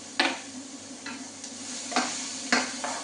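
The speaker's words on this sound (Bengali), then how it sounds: "আমার সবজি ফ্রাই হচ্ছে" Vegetables seasoned with garlic powder and paprika sizzle in a pan, a soft steady fry broken by several sharp scrapes and clicks of a spoon stirring, close and without talk.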